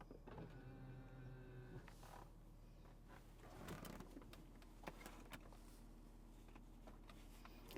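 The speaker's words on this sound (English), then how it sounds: "Folding mirrors." Electric folding mirrors on a Mercedes S-Class fold with a faint, steady motor whirr and a few small mechanical clicks, low in level with no talk over it.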